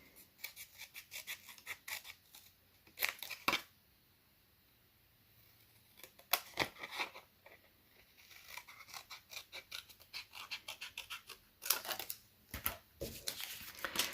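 Scissors trim cardstock around a small paper piece in a series of quiet, irregular snips and rustles, close by, with short pauses between bursts of cutting.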